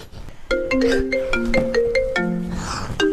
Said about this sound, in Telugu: అమ్మా విమలాంటి ఫోను.